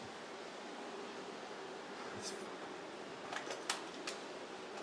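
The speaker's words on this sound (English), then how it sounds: "hopefully you can hear the gushing water" Spring water gushes through the narrow rock-cut Hezekiah's Tunnel in a steady, rushing wash that fills the space, with a few faint splashes and knocks toward the end.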